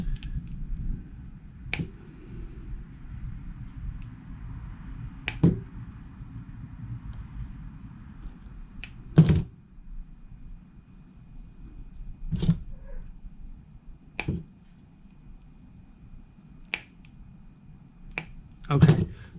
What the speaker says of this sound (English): So I'm going to cut this wire right there, and I'm going to try to cut them all the same length.